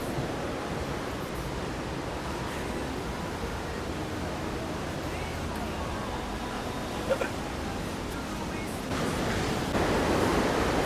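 Steady, full broadband rush of flowing water beside a mountain restaurant in Quba, Azerbaijan, continuous and close, swelling slightly louder toward the end with no talk over it.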